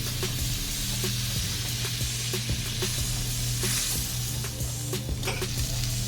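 Steady close sizzling of two tablespoons of butter melting in a hot pan for smothered pork chops, with scattered clicks and crackles over a constant hiss and a low background hum.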